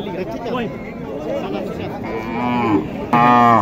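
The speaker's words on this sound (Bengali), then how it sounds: "খুব ভালো মানের একটি শাহিওয়াল গরু" A Sahiwal cow lets out a long, loud moo amid a busy background of people chattering at a cattle market in Naogaon, Bangladesh.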